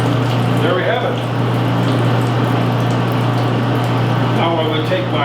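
Water sprays steadily onto a screen-printing screen as it is washed out, a continuous close hiss and gush that runs unbroken throughout, with a low pump-like hum beneath.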